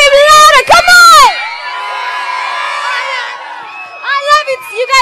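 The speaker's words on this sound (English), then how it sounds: "Let me hear you scream louder." A crowd of children at a summer camp screams and cheers loudly, with high shrieks and whoops over a sustained roar that fades, then rises again into more shouting.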